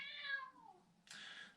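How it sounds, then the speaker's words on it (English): A pet cat named Murphy meows twice nearby indoors, a falling drawn-out cry followed by a shorter, brighter call. "Yes, that's my cat."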